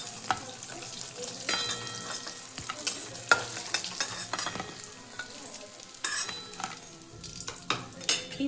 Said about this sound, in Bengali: এইভাবে কিন্তু আমি প্রতিটা চিকেন আমি কিন্তু ভেজে নেব।